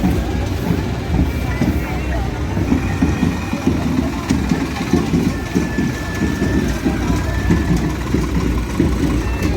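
A heavy engine idles nearby with a loud, steady low rumble, unbroken throughout, mixed with faint background voices.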